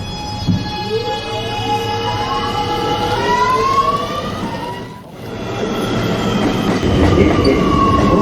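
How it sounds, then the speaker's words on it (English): An R211 A express subway train pulls out of the 175th Street station, its motors whining upward in rising tones as it accelerates, loud and close, then rumbling on along the track. "This is a Brooklyn-bound A express train."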